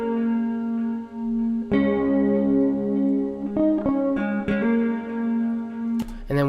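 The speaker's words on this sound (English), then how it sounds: "So the guitar riff by itself sounds like this." Solo electric guitar riff laid down for a smooth trap soul beat, sustained chorus-tinged chords with a few plucked notes and string noise, clear and close with no other instruments.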